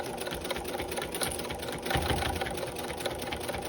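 Close and loud, a sewing machine stitches around a round potholder with an even motorized whir that swells briefly midway, then carries on without pause, with no voices.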